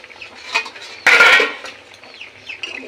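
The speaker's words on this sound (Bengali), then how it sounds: "ঢাকাটা খুলে দিলাম।" A metal lid lifted off a cooking pot of bitter gourd and catla fish curry, a single bright clattering burst near the middle, loud and close, then fading into quiet kitchen background.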